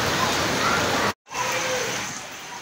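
Steady broadband hiss of heavy rain pouring down outdoors, loud and close, briefly cut to silence midway before resuming with faint voices underneath.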